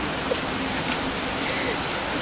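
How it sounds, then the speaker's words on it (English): Steady rain falling outdoors on a rainy day, a dense even hiss of droplets that stays constant and fairly loud from start to finish. "But rain has been falling like so much"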